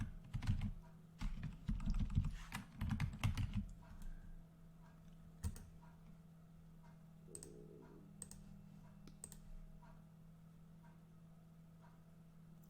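Quick bursts of typing on a computer keyboard as a zip code is entered into a dentist search, clustered keystrokes in the first few seconds then a few sparse clicks, close and moderately loud over a steady low hum.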